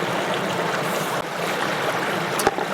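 Fast-flowing stream water on Dartmoor rushes steadily in a close, continuous wash, with a brief knock near the end.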